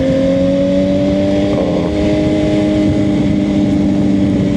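A Suzuki GSX-R 750 motorcycle idles and revs nearby, its engine note loud and continuous with a slight rise and dip in pitch partway through.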